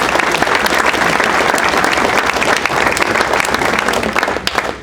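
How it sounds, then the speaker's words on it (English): An audience at a university athletics hall of fame ceremony fills an indoor hall with loud, sustained applause, many hands clapping steadily before it fades out. "Please give them a round of applause."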